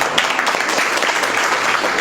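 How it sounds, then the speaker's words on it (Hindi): An audience at an international hapkido championship in Delhi's Talkatora Stadium applauds a girl fighter, a dense, steady wash of many hands clapping close by without a pause. "मैं चाहता हूँ इस लड़की के लिए एक बार तालियां बजा दो सब"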